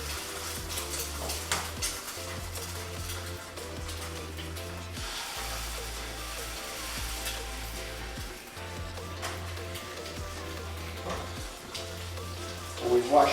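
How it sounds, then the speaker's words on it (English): Eggs frying in a pan, a steady low sizzle running continuously beneath background music, with occasional faint utensil clinks near the end. "start the eggs"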